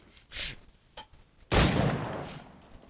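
A few gunshots in Assassin's Creed IV Black Flag: two faint, quick reports early on, then one louder, booming shot with a decaying tail, spaced irregularly with no talk.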